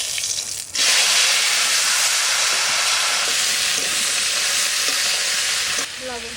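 Taro pieces sizzle loudly in hot oil spiced with bay leaf, dried red chilli and cumin, a steady close frying hiss with stirring scrapes that begins abruptly and runs continuously.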